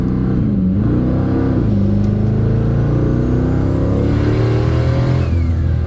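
A Dodge Hellcat accelerates hard from inside the car, its engine roaring loudly with rising pitch through several gear pulls, a continuous dense rumble with no talking.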